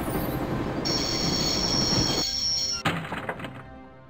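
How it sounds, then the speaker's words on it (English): A train in the Broken Sword adventure game rumbles and screeches with a high wheel squeal, then comes to a stop with a thunk and settles, loud and close with no talk. "I'd always wanted to stop the train, and now was my chance."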